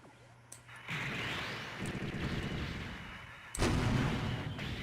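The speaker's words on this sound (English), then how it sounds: "the homing missiles go out beyond visual range as well" Missiles launching in the online mecha game SD Gundam Online, firing as booming bursts over a continuous rumbling battle din, with a louder blast late in the sequence.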